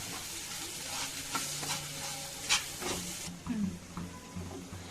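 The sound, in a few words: stirring chili powder into tomato gravy curry in a pan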